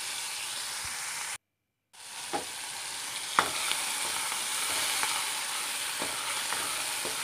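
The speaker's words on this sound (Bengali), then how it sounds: "তেল গরম হয়ে গেছে, এখন মাছগুলোকে ছেড়ে দেব।" Shrimp sizzle steadily in hot oil, a loud continuous hiss stirred gently with a ladle that adds occasional soft clicks, with one short dropout to silence early on.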